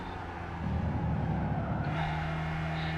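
Car braking in Gran Turismo 5 during a licence test: steady engine drone drops as tires scrub and squeal briefly, a sustained low hum continuing under it, no talk.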